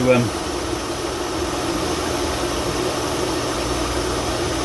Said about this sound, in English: Let's let the pump run for a while